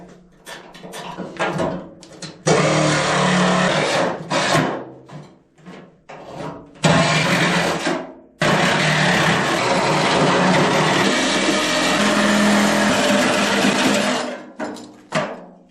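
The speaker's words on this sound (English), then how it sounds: "cut right along all there with the Sawzall" A Sawzall reciprocating saw cuts through metal during a 1951 Chevy rat rod build, running in several long loud bursts separated by short pauses and clunks as the blade restarts.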